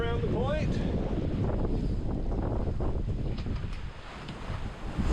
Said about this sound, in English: Sailing by Diamond Rock, or Darth Vader as we like to call it